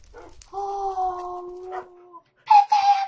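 A puppy whimpers and howls in drawn-out, wavering cries, close and fairly loud, with short breaks between them and a higher yelping burst near the end.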